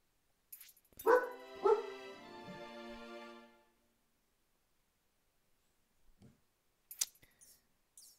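Dog barking in the video game One Piece Odyssey: a few sharp harmonic barks then a longer drawn-out howl-like yelp, followed by faint short sounds after a pause.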